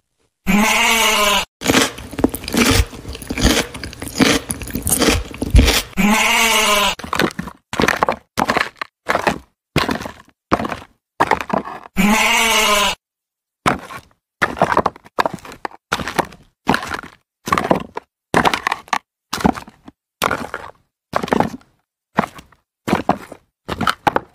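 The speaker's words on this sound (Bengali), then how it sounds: "ছাগলগুলো ঢেপ ঢেপ করে আমার দিকে তাকিয়ে ডাকছে" Cartoon goats bleating in a Bengali comedy, a long series of loud, rhythmic, evenly spaced calls with brief silent gaps between them and no speech.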